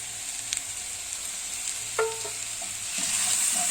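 Alfredo sauce with bacon is stirred in a pan, a quiet, steady sizzle with a few light scrapes of the spoon and rising frying noise toward the end.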